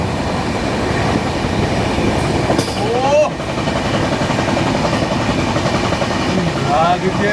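The Chennai–Bengaluru Shatabdi Express rumbles steadily past with continuous rolling noise and brief metallic squeals, heard close and loud throughout.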